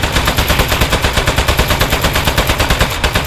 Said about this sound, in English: Keep shooting him.